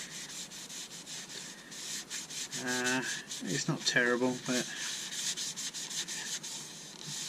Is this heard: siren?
no